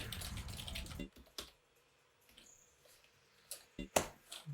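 Keys on a Sega Dreamcast keyboard clack in a few sharp, separate bursts after a noisy opening second, with quiet gaps between them.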